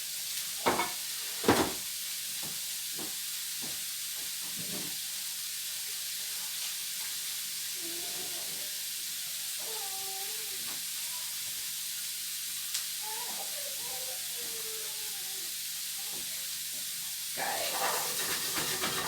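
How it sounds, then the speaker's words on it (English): Cabbage and smoked pork belly sizzle steadily in a hot frying pan, a continuous hiss with occasional clinks and knocks, and a person speaking softly partway through. "As you can hear, that's already sizzling away"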